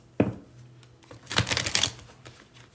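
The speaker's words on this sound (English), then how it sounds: "let's pull a few cards for you, a few tarot cards" Tarot cards shuffled and pulled: a sharp tap, then a brief riffling flutter of cards close by, quiet and short, no talk.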